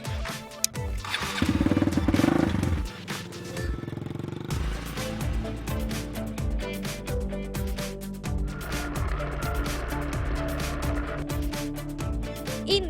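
Motorcycle ride on a regency tour in eastern Indonesia, the engine revving and shifting through gears in repeated climbing pulls, loud and close over wind and road noise, with no talking.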